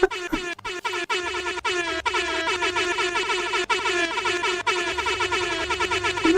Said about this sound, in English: Where's my air horns?